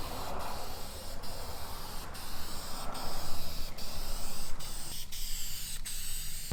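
Aerosol spray paint applying a final black coat to a Ford F150 emblem, a series of sustained hissing bursts with short pauses between passes and a rattling can, close and clear.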